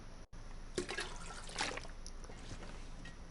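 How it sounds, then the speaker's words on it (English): Water being drawn from a toilet in the survival game The Long Dark, a soft splashing and trickling with a couple of louder pouring surges, fairly quiet and close. "We're going to pull the water from the toilet."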